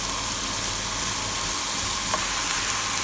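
Food fries in a pan for buttered chicken, a dense, steady sizzle filling the whole clip at close range with no talk.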